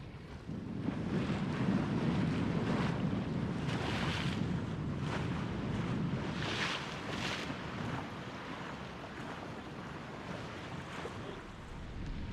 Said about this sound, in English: I estimate that the wind's about 10-11 knots.